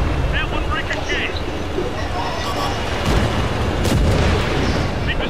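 Tank cannon fire in a World of Tanks style battle with an Object 140 tank: heavy booming shots and rumbling explosions under continuous battle noise, with voices talking throughout.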